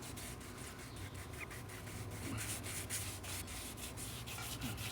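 Hand sanding over a rust repair area on a van gives a continuous soft rubbing rasp with quick repeated strokes, fairly quiet and without talk.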